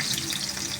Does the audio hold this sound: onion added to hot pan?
yes